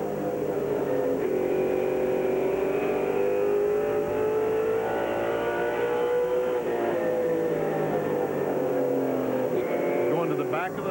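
Stock cars race around the track at the 1996 NASCAR Featherlite Southwest Tour 150, a continuous loud engine roar that rises and falls as they pass. A commentator talks throughout.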